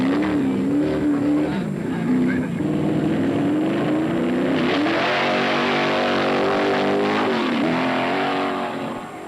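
A big Formula 5000 race car is driven hard at the 1972 Newcastle Mattara Hill Climb, its loud engine revving and shifting pitch as it climbs, with a commentator speaking over it.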